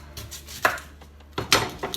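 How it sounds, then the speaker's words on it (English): Two sharp knife chops land on a cutting board as the ends are cut off a zucchini, close and crisp, separated by a short pause. "So I'm just chopping the ends off,"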